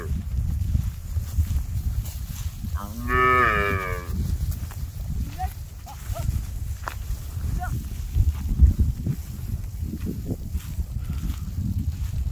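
Cattle are herded to their night enclosure on a remote river char, with one clear drawn-out moo standing out over shuffling hooves and a low steady rumble of background noise.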